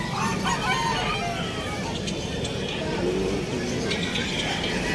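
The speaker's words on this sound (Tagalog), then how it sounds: "Daming chicken." Chickens and roosters crowing and clucking at a crowded pet market in Bulacan, several birds calling over a dense, steady murmur of people talking nearby.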